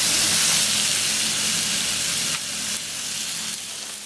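Pork with the rind skin-side down roasts in a hot pan, giving a steady, close, loud sizzle and hiss that drops slightly partway through, with no talking.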